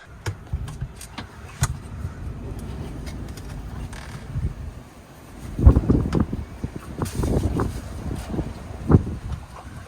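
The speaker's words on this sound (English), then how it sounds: "We're in a sort of storm here now. It's so windy." Gusty storm wind roars and buffets the microphone in bursts aboard a narrowboat, with a low rumbling swell growing stronger partway through and lighter rustling between gusts.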